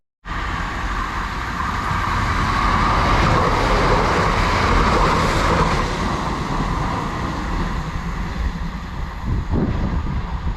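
Class 165 diesel unit 165113 pulls out of Gomshall station bound for Reading, its loud, continuous roar of engine and wheels building, holding steady and then easing slightly as it moves away.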